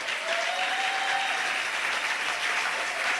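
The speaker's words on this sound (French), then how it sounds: "je te demande d'acclamer le roi de gloire" A church congregation applauds the king of glory with loud, sustained clapping from a large crowd, dense and even throughout, with a faint murmur of voices beneath.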